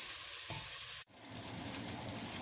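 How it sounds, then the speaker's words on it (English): Sausage browning in a soup pot for keto zuppa toscana, a quiet, steady sizzle with a brief dropout partway through before the frying hiss resumes, faint and with no talking. "So we're just going to brown this for another maybe just 2 minutes until it's completely all brown."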